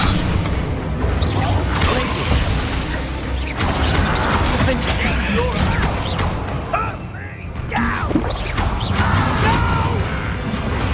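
A Confringo blasting spell explodes in the Hogwarts Legacy video game amid dense combat noise, with booming, crashing bursts and mechanical clatter running loudly across the whole stretch.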